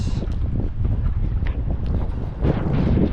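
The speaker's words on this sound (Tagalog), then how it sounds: "Grabe lakas ng hangin." Strong wind buffets the microphone in heavy gusts over rough, splashing sea water beside a fishing boat, a loud continuous roar with brief knocks and sloshes.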